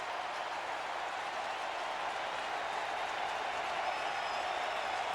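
A Wrigley-style crowd of 40,138 Cubs fans applauds at a baseball game against the Pirates, a steady distant roar of clapping and cheering that holds for several seconds.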